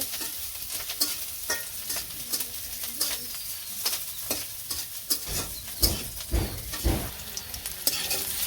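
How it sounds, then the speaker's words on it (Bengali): Onions and green chillies fry in a pan in a village kitchen with a steady sizzle and frequent spatula stirring knocks, while pigeons coo faintly in the background. "পেঁয়াজটি ভাজা হয়ে গেছে, আমি শাকটি ছেড়ে দিই।"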